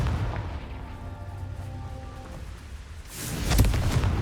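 A Confringo blasting spell goes off in Hogwarts Legacy on PS5, building from a low rumble into a loud booming burst near the end, with crackling debris after the blast.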